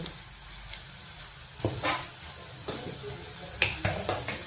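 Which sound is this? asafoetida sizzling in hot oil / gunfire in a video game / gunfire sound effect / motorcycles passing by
asafoetida sizzling in hot oil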